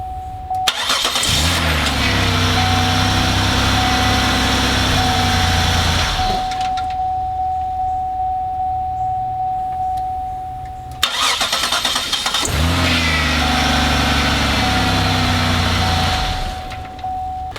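A 2004 Buick LeSabre engine, after a click no-start repair, cranks and catches twice, each start followed by a steady close idle, with a chime between runs.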